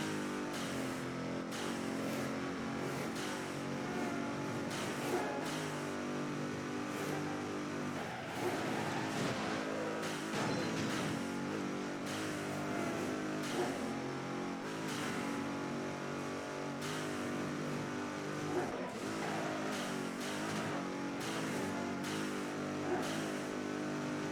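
Cars race in Midnight Club 3: Dub Edition Remix, with upgraded engines revving and roaring continuously under a dense, loud, steady game mix with no pauses.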